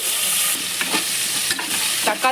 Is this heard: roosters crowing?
no